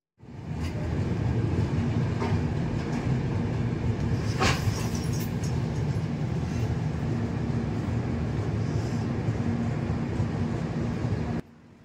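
Garib Rath Express 12739 AC 3-tier coach running between Vizag and Secunderabad, a steady rumbling drone of the moving train heard from inside, continuous and fairly loud, with a brief rattle midway.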